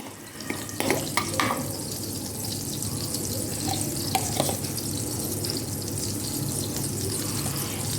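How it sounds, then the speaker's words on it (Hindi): Chicken frying in melted butter in a pan gives a steady, continuous sizzle throughout, with a few brief clinks and stirring noises early on. "मैं इसको अभी फ्राई कर रही हूँ"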